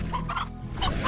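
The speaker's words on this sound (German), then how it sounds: "Ich hab euch gehört, meine guten Hühner." Chickens in the video game Slime Rancher cluck in quick, close bursts, loud and clear, with no voice over them.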